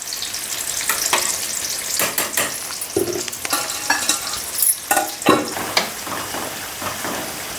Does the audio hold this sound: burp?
no